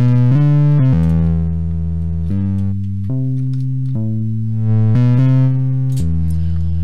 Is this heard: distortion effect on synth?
yes